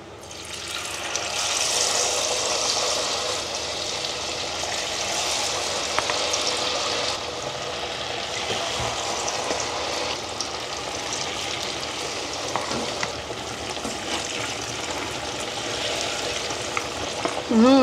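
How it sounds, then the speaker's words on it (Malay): Taro pieces frying in hot oil, a steady loud sizzle and bubbling that runs throughout with occasional stirring clinks, no talking. "sekarang minyak dah panas, kita dah boleh mula goreng keladi kita."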